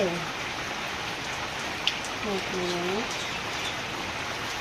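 Heavy rain falls in a steady, loud, unbroken hiss, with a couple of brief vocal sounds and a faint bird call surfacing over the downpour.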